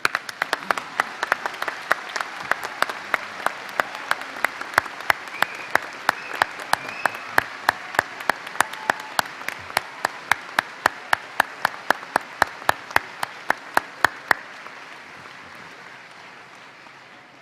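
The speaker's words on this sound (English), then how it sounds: "I think we're all feeling some pent-up applause in us." A large audience at a spring university convocation breaks into sustained applause, a dense wash of clapping that holds steady for about fourteen seconds before tapering away.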